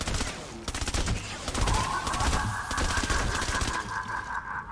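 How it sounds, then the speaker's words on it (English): The Candy Corn LMG in Fortnite Save the World fires in long, rapid automatic bursts, loud and continuous, with a faint voice underneath. "The gun is laughing? It is the gun!"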